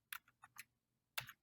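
Keys tapped on a computer keyboard while a password is entered, four quick light taps, a pause, then two more close together, faint and nearby with no talking.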